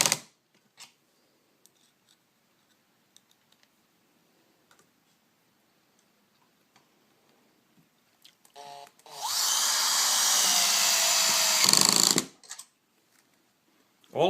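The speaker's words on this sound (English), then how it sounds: "driving the screws to attach the workpieces is done in one operation" Faint clicks and handling noises, then a drill driver whirs loudly for a few seconds while driving a self-tapping screw into a pocket hole to join face frame pieces, stopping sharply.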